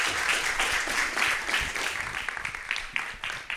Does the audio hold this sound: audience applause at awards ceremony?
yes